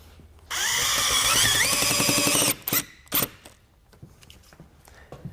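A power drill whirs steadily for about two seconds, driving an installation screw for a shutter with a bi-fold track system, then stops, followed by a few short clacks and handling noises.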